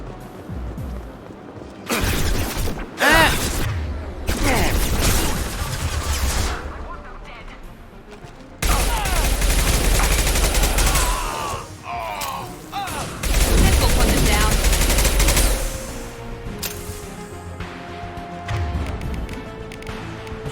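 Gunfire in Mass Effect 2 aimed at a flying enemy: bursts of loud, sharp rapid shots come in several clusters across the stretch, with quieter gaps between them and a voice talking over parts of it.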